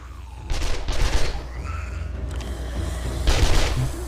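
Bursts of rapid video game gunfire crackle in two clusters, loud and close, with a lull of softer noise between them.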